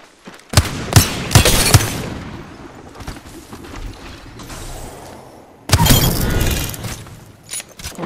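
Gunshots and a grenade explosion in Apex Legends: a few sharp close shots, a stretch of quieter rumble, then a loud burst of blasts and fire near the end.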